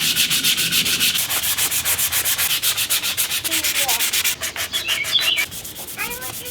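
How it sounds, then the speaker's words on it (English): A bearded axe being sanded during restoration, with steady rhythmic rasping strokes running continuously and loud and close, with no talking. "let's sand it down"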